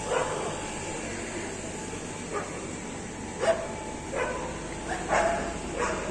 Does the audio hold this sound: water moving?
no